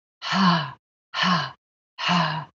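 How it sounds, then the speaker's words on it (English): Three long, slow exhales of a calming breathing exercise, each a soft, breathy sigh lasting about half a second, evenly spaced with quiet pauses between them, close and clear with no talk. "Little inhales, long exhales."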